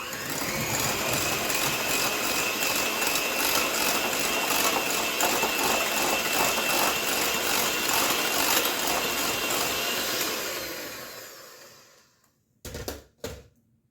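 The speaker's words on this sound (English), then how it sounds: "Now I'm going to beat my egg yolks in here." Egg yolks for carrot cupcakes are beaten in a bowl with a steady, loud mechanical whirr that runs for about eleven seconds, then winds down, followed by a couple of brief knocks.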